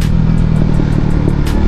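A street-racing motorcycle drives fast on the road, its engine a loud, continuous close drone that holds steady with a faint rhythmic pulse throughout.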